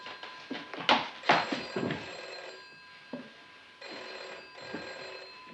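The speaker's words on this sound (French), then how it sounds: "Quand le téléphone sonne, Thomas résiste, mais comme un gamin, il se jette sur l'appareil." A telephone rings in a scene from the 1967 Antonioni film Blow-Up, with bell bursts standing out near the start over a quieter room tone and a few soft movement sounds.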